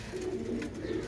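Sturdy pigeons, males and females, coo softly in a short low rolling call, close and alone without talk.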